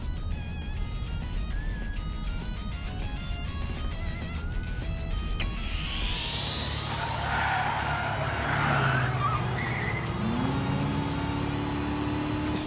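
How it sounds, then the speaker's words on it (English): A turbocharged vehicle engine in the Trails Through Daybreak video game drones steadily at first, then rises in a sweeping whine that climbs and falls in pitch, loud and continuous throughout. "that a turbocharger?"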